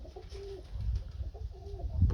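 Pigeons from a fancier's breeding line coo softly, with two low, drawn-out calls set apart by a short pause against faint background shuffling.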